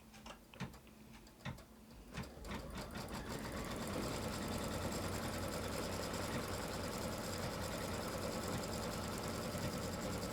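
A sewing machine stitching down a piece of an in-the-hoop quilt block starts with a few sharp, spaced ticks, then settles into a fast, continuous mechanical whirr of stitching that runs steadily to the end.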